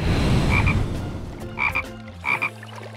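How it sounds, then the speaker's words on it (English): A cartoon frog croaks three times in short, fairly loud double-pulsed bursts, spaced about a second apart over a low, steady musical background. "this animal's green, can hop, and make a ribbit sound"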